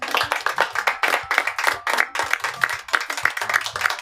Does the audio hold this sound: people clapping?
yes